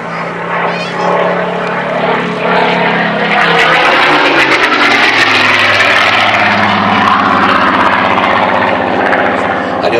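A Rolls-Royce Griffon 37-litre piston aircraft engine roars as a Battle of Britain Memorial Flight plane passes at an airshow, a loud, steady propeller drone whose pitch sweeps downward as it flies by, with a commentator talking over it.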